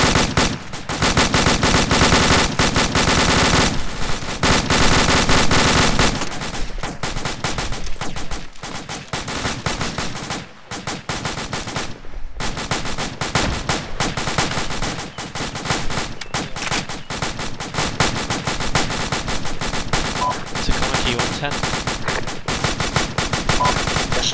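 Sustained bursts of rapid machine gun fire in an ArmA military game operation rattle continuously and loudly, with short pauses between volleys.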